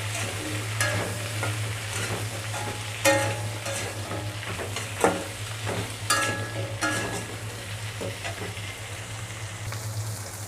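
Potatoes and pointed gourd frying in oil, a constant crackling sizzle punctuated by repeated scrapes and clatters of a spatula stirring the pan, over a low steady hum.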